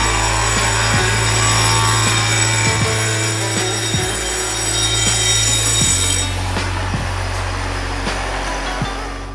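A grinder steadily whines and buzzes while finishing the side edges of marble tiles at a marble factory, with a continuous harsh, loud tone and periodic low knocks, with no speech.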